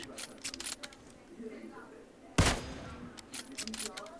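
A single loud gunshot in PUBG Mobile cracks out in the middle, popping a car tire, surrounded by clicking and rustling noises.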